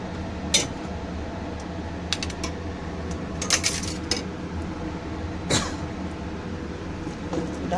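Lentils (dal) for a khichuri with Gobindobhog rice are stirred in a cooking pot, giving scattered sharp clinks and scrapes of a utensil against the metal over a low steady background hum.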